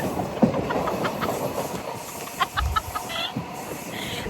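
A passenger train running on a line in Kerala toward Kochi, heard from on board as a steady, close rumble with scattered squeaks and rattles and no talking.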